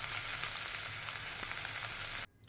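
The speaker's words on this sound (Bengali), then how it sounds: "এগুলি ভাজা হয়ে গেলে আমি সব এগুলি তুলে ফেলবো" Cauliflower and tomatoes fry in a pan for a bhorta, giving a steady close hiss of sizzling oil with a few faint crackles. The sound cuts off abruptly just before the end.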